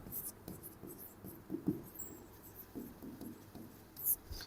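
Pen writing on paper during a chemistry lesson, soft intermittent scratching strokes, quiet and close, with no talking over them.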